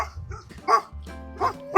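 Two golden retriever farm dogs at a farmhouse bark a few times, with short separate barks spaced through the moment, fairly close and clear over a quiet outdoor background.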